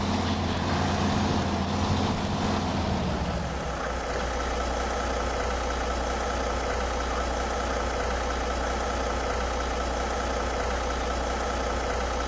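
A heavy truck engine in SnowRunner idles with a steady, loud low rumble and droning hum that shifts slightly early on, then holds constant without any talking.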